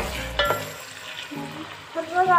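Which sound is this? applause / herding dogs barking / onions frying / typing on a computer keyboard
onions frying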